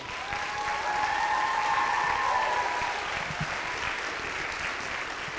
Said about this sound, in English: How about a round of applause for our student teacher?